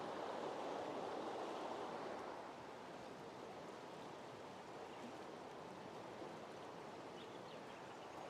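Steady broadband rush of flowing stream water fills the scene continuously, fairly close and even, with no voices.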